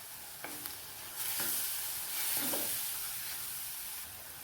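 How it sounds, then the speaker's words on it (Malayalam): Crushed garlic, ginger and curry leaves sautéing in a pan for a raw prawn and green mango curry, a soft hissing sizzle that swells midway with a few light stirring taps, fairly quiet and nearby. "വെളുത്തുള്ളിയും ഇഞ്ചിയും കൂടെ ചതച്ചത് ഇട്ട് കൊടുത്ത് നമുക്ക് ഒന്ന് വഴറ്റിയെടുക്കാം"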